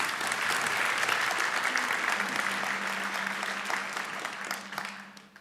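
Warm, sustained audience applause fills a late-night talk event on digital security, dense clapping from a crowd that gradually tapers toward the end.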